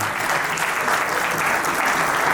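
Steady, dense applause from an audience at a textile industry event, loud and continuous throughout without pause.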